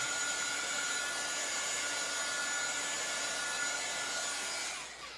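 A heat gun blows air at a craft project in a steady, loud, close whooshing hiss that cuts off just before the end.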